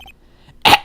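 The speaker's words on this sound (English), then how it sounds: "Maybe I should clear my throat?" Two short, harsh throat-clearing bursts come after a quiet moment, close and fairly loud.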